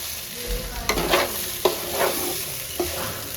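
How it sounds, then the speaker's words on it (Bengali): Rice fried and stirred in a pot for pilaf, with a steady low sizzle and three sharp scraping stirs of a utensil against the pot, close and alone. "এখন আমি চাউলটা ভেজে নিলাম।"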